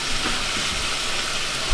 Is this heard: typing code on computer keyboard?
no